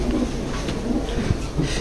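A racing pigeon of an Olympiad line coos in low, soft repeated notes, close by, over a faint background hum.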